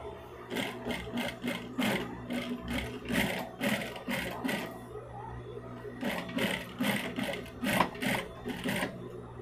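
A sewing machine stitches a bag at stitch length 3.5, running in bursts of rapid mechanical clatter with a brief pause midway before resuming, close and steady.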